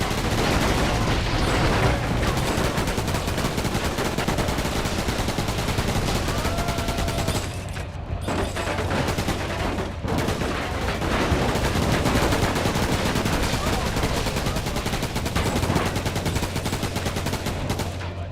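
Sustained rapid gunfire from the Roadkill vehicle combat game rattles almost nonstop, loud and dense, with a brief lull partway through before the shooting resumes at full intensity.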